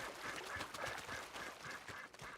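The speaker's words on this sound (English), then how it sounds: "Oh, it's a bird." A bird in a Wild West video game calls with a repeated quacking cry, about eight short nasal squawks in a steady rhythm, faint and alone.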